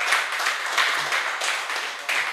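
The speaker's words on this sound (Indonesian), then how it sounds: "Tepuk tangan dulu buat KPI." Studio audience applause at an Indonesian talk show, a steady crowd of clapping hands at moderate loudness with small surges, continuing for a couple of seconds with no one speaking over it.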